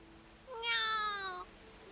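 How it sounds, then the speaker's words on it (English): A black cat in the Fruit of Grisaia visual novel gives a single clear meow lasting about a second, standing alone over quiet background. "The black cat wanders in through the door and twines around Michiru's lower legs"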